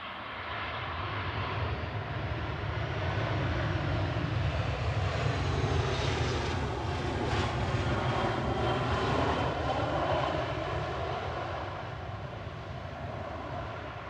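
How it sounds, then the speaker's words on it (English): A Boeing 757 with Rolls-Royce RB211 jet engines roars steadily and loudly through the whole stretch at Manchester Airport, a broad sustained rumble and whine that swells slightly mid-pass, with no talk over it. "So 757. Yep, here it goes. Listen to those RB211s."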